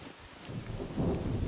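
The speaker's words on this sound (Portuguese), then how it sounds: "Agora tá caindo raios." Thunder and rain in the video game SCUM, a low rolling rumble building over steady soft rainfall, brief and moderately quiet.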